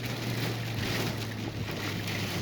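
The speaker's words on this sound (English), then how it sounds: "We're in the middle of this rainstorm right now." Steady rain from a rainstorm hisses continuously, with a dense, even wash of sound and no talking.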